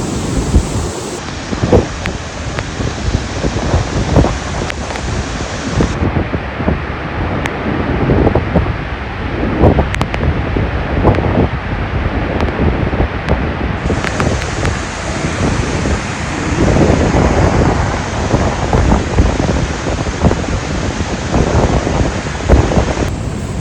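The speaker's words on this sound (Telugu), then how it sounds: "అసలు వాటర్ ఫ్లో మామూలుగా లేదు." Heavy water flow of Tarabu Waterfalls near Paderu in the rainy season, a steady, loud, broadband roar and rush of falling water that continues without a break, with wind buffeting the microphone.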